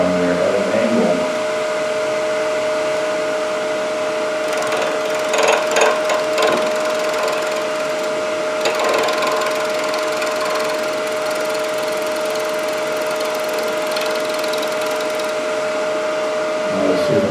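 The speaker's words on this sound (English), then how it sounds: "I'm going to use a form of shear scraping." A wood lathe spinning an offset tool handle hums steadily with a whining motor tone, while a chisel held at an angle shear-scrapes the wood in intermittent rasping passes.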